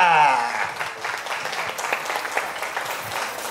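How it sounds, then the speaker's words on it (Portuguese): Audience applause at a spring festival karaoke event, a dense crowd clapping close and steady for about three seconds, tapering slightly, with a faint voice at the start. "¡Palmas para Erika!"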